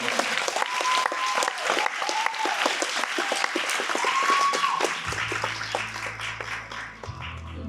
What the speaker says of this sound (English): So please give a big round of applause to Kevin and Quang.